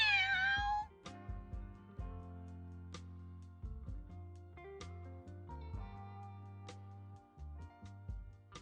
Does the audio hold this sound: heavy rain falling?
no